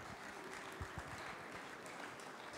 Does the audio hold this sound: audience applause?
yes